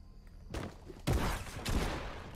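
Gunfire from a weapon in Fortnite on Nintendo Switch: a couple of sharp, loud shots spaced about half a second apart after a quiet start, standing alone with no talk over them.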